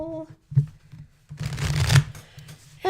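A deck of tarot cards is shuffled briefly, a quick papery riffle and flutter lasting about a second, close and fairly loud, preceded by a soft hum and a faint tap.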